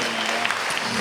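A congregation claps hands together in worship during a church sermon, a brief dense burst of applause that fills the space evenly without any speech over it.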